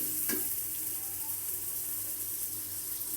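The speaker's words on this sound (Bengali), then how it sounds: "ভালো করে মশলাটা কষিয়ে নিচ্ছি।" Spice paste sizzles in hot oil for a mixed winter vegetable curry, a continuous close hiss with a brief stirring scrape near the start, steady and loud without speech.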